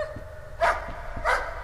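Two loud barks from a dog in the horror game Layers of Fear, spaced about half a second apart over a low droning background.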